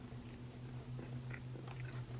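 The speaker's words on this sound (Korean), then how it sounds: "체다 치즈 한번 먹어보도록 하겠습니다." A few soft, close bites and chews into food coated in cheddar cheese sauce sit over a low, steady electrical hum.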